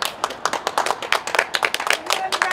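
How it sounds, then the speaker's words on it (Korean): An audience at a Korean political gathering claps for a visiting monk: a few seconds of brisk, uneven hand claps from a modest crowd, close and fairly loud, with individual claps standing out in irregular bursts. "박수 한번 해주시죠"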